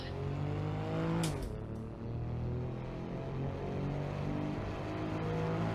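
Race car at the Belle Isle time attack in Detroit, engine holding a loud steady high roar at full throttle, with a brief sharp scrape or curb strike early on, heard close and continuous throughout.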